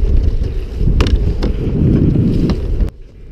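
Wind and waves buffet a fishing kayak drifting along a rocky Swedish coast during a kayak fishing tournament, a steady loud rushing wash with a few sharp knocks and splashes, then cutting off abruptly near the end.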